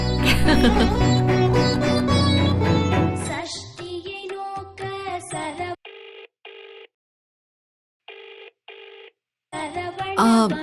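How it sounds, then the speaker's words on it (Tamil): A mobile phone ringtone plays in repeated short electronic bursts with gaps of silence between them, following a stretch of louder music in a Tamil television serial. "போன் அடிக்குது பாரு, போன் எடு."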